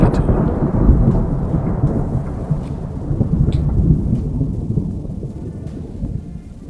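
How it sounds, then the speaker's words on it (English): Deep rolling thunder carrying off across cliffs, a continuous low rumble with rain-like hiss, steady and fairly loud throughout with gentle swells and no voices. "thunder rolling off across the cliffs"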